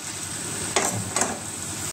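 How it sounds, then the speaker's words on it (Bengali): Pieces of fried fish dropped into a pan of simmering potato curry, a steady hiss of bubbling and frying with two brief sharp clatters or splashes as the fish goes in. "এবার ভেজে রাখা মাছগুলো এর মধ্যে দিয়ে দিলাম"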